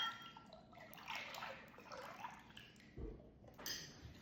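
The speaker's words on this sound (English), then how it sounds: "Pour that into a bowl." Evaporated milk poured into a bowl: a soft liquid pouring and gurgling stream, faint and close, with a brief thud near the end.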